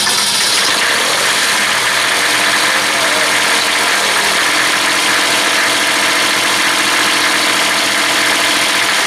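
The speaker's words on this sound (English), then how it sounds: "Tractor's getting a little bit old, but I'm gonna keep running it." An aging diesel tractor on a farm idling just after glow-plugging, a loud, steady low rumble with constant mechanical clatter filling the whole stretch, close up, with a single brief spoken word.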